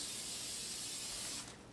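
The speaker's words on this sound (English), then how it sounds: "Just take some cooking spray" Cooking spray hisses steadily into a bundt cake pan in one continuous burst of about a second and a half, close and loud, then cuts off abruptly.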